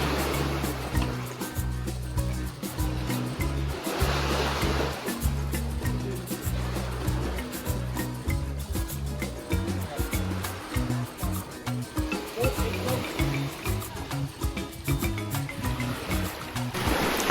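Sea water on a beach on Milos, Greece, washes and trickles in soft, uneven surges, with waves swelling and receding at a moderate distance under a low rumble of wind.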